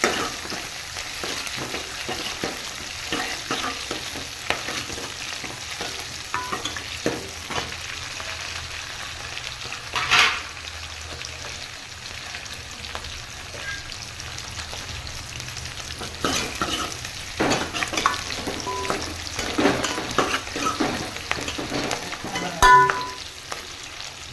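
Onions and green chilies sauté in oil for a vegetarian parotta kurma, a continuous close crackle and sizzle with irregular spoon scrapes and knocks against the pan, no talking.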